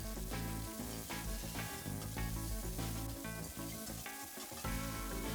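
Chopped carrot, celery, onion and garlic sizzle and fry steadily in a hot pan, a dense continuous crackle with occasional stirring, close and fairly loud throughout with no talking.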